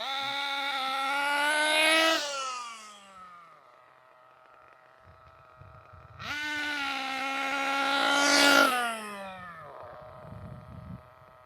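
Losi 8ight RTR nitro RC buggy engine during break-in, two long high-pitched revving screams that rise and then drop away, with a quieter idle buzz in between, close and loud.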